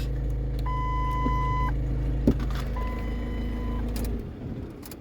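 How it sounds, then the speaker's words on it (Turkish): Diesel car engine showing fault code P0251 for injection pump fuel metering, heard through a low steady idle rumble under dashboard chimes and beeps, running for a few seconds before cutting off. "Marşa basıyoruz. Motor çalışıyor."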